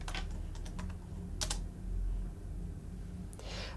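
Quick keystrokes on a computer keyboard entering a short Bloomberg terminal command, a few crisp clicks spaced apart over a low steady room hum, close and fairly quiet.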